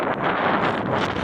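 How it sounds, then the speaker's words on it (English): Loud, steady wind buffeting the microphone on a sailboat, with a broad rumbling roar and no pauses. "Excuse the wind if it's windy."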